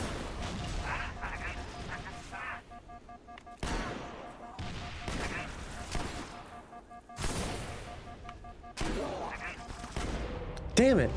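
Shotgun blasts and other weapon fire in Halo, several heavy booming shots spaced irregularly amid ongoing combat sounds, moderately loud and close, with a brief burst near the end.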